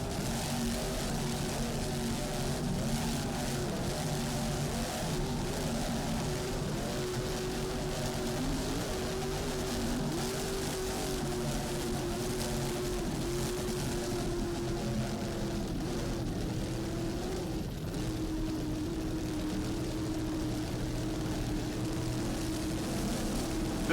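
Mercury-powered racing powerboats run side by side in a close race, their engines giving a continuous loud droning roar with wavering pitch that holds steady throughout, no talk.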